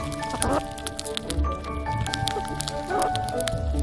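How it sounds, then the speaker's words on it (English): Small wet squishing and smacking noises from a baby red squirrel eating, with brief squeaky chirps, close up and irregular. "he would always make this noise when eating next to me"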